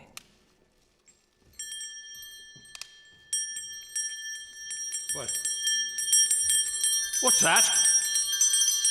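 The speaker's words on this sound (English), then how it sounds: "His glance happened to rest upon a disused bell, and as he looked, he saw this bell begin to swing." Disused bell swinging and ringing as a radio drama sound effect, with bright sustained rings that build and layer over several seconds while a startled voice speaks over them.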